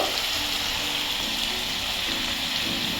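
Mushroom curry with spices sizzles steadily in a frying pan while being stirred, a constant bright frying hiss with faint low scraping underneath and no voices.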